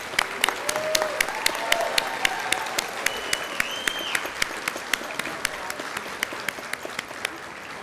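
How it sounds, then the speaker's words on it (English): Applause from an elementary science fair awards ceremony audience for student participants, steady and continuous, with distinct close claps in a regular rhythm over the wash and faint voices beneath. "Please give all of the students a round of applause."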